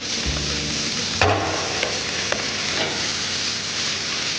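Chilli paste frying with mushroom masala in a pan, a steady loud sizzle with a few clinks and scrapes of stirring breaking through.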